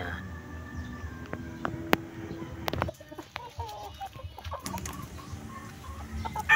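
A rooster out in the morning gives several short clucks with some chicken calls mixed in, close by, over outdoor background noise with someone talking at times.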